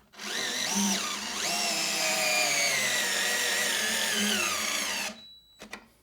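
A DeWalt 8 volt cordless screwdriver drives a thick deck screw, its motor whining close and steady for about five seconds and straining as the pitch sags, then stopping, followed by a couple of brief clicks.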